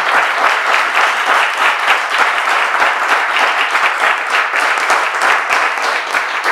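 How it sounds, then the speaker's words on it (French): A church audience at an evening gathering claps loudly and steadily, a thick continuous burst of applause from many people filling the whole span at close range. "On peut s'applaudir très fort."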